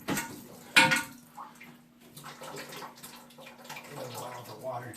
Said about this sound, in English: allow the water to drain into the bucket.